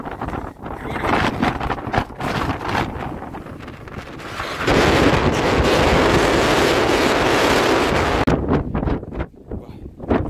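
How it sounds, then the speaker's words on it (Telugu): Strong wind buffeting the microphone, a constant roaring rumble that swells louder midway and then drops back to gusty bursts. "సెల్లు కూడా ఆగట్లేదు, గాలి విపరీతం."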